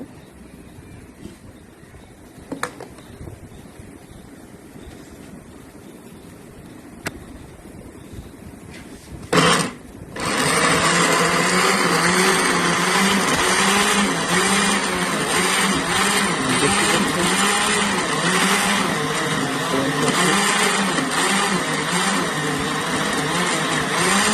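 An electric blender whirs through aloe vera jelly, starting abruptly after a quiet stretch with a few faint clicks and then running loud and steady.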